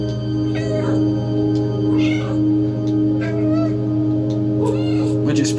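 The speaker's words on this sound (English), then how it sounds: "you can actually make the kitty meow by hitting the B" Repeated video game cat meows, triggered by pressing the B button, sound in short bursts of about one per second over a steady hum of game music.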